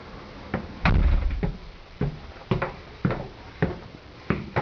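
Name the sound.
attic door being opened in a show home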